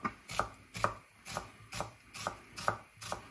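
A very sharp knife dices a shallot on a cutting board, eight evenly spaced crisp chops in a steady rhythm, close and fairly quiet, with no speech.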